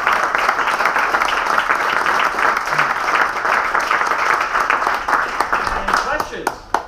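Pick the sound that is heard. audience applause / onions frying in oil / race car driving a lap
audience applause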